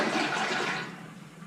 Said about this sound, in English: Because it'll flush once,